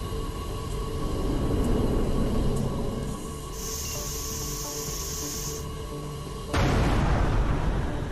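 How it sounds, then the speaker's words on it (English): Explosion in the space shooter video game Everspace 2: a long, loud roaring hiss of broadband noise, then a sharper burst that swells near the end. "Explosion imminent."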